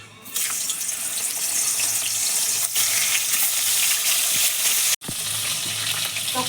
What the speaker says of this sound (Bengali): মাছের মাথা ভেজে নেবো আর মাছের মাথা ভাজতে ভাজতে আমি হাফ লাউটা কেটে নেবো